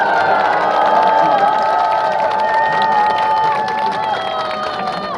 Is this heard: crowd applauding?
yes